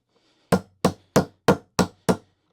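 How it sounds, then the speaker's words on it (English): Six evenly spaced, sharp metallic taps of a hammer striking a socket to seat a skateboard wheel bearing, close and loud with a clear silence between each blow. "I'm going to take my socket and a hammer"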